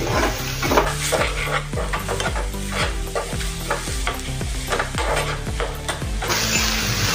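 Spices being stirred into dum aloo in a pan, with a steady sizzle under repeated scraping strokes of a spoon against the metal, close and fairly loud, with no talking.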